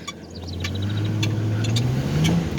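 An automatic pickup truck with its back tires spinning on grass: a steady engine drone that slowly rises in pitch as the revs climb, close and fairly loud, with light whirring on top.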